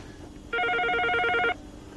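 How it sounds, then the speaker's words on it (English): An electronic telephone rings in a hideout room, one continuous trilling burst lasting about a second, loud and close, with quiet room tone before and after. "the phone still goes down here"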